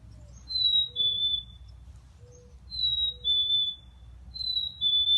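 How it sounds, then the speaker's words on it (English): A black-capped chickadee sings its clear two-note whistled song, high then slightly lower, repeated three times at a moderate distance over faint outdoor background noise. "Let's see if we can hear a real chickadee sing."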